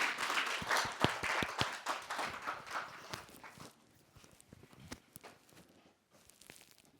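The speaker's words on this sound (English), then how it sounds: "Give a big round of applause for her." Applause from an audience at a school public speaking championship, greeting a student speaker: loose, fairly sparse clapping with distinct individual claps, loud at first and thinning out after about three seconds into a few scattered claps.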